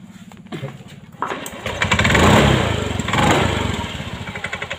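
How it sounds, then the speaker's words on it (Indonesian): A 2022 Honda Scoopy scooter with a rattling CVT, white exhaust smoke and heavy oil consumption starts up and runs close by, with a quick rhythmic clattering pulse running through the engine drone as it rises and settles. "Nah, ada bunyi kratak."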